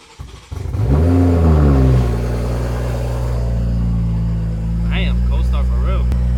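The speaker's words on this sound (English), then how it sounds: "It's a cold start for real because it hasn't been started up in 4 days." A car engine cold-starts after sitting unused for four days, catching with a sharp rise into a loud, high rev for about a second before settling into a steady, throaty idle, with a voice speaking over it near the end.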